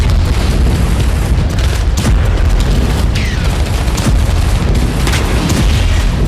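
Large explosion in Sevastopol, Crimea, heard as a dense, continuous loud rumble with repeated booming impacts and crackling bursts, no talk over it.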